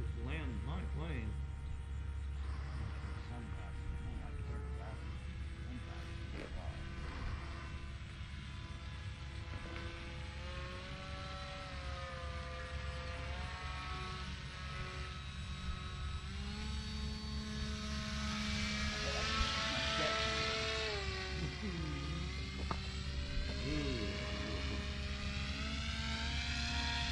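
An RC model airplane powered by a Hacker electric motor flies overhead on a bright morning, its steady whining drone shifting in pitch as it passes and banks, under a low constant hum with a voice talking.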